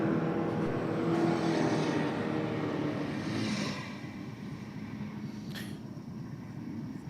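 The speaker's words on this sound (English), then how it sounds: "Sounded like he was on and off the throttle on that one" A race car engine drones at a distance, its pitch rising and falling as the driver goes on and off the throttle, with a steady roar that eases partway through.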